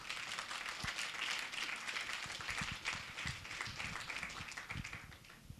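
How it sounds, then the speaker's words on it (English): Applause from an audience thanking Hassan Khan after his presentation at an art forum, a soft, distant and continuous patter of many hands with no talk. "a huge round of applause and thanks"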